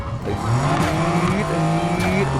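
Mercedes-AMG GT 2015 with a stock engine launching and accelerating in the video game Need for Speed Heat, a loud engine rising in pitch through quick gear changes with tire squeal.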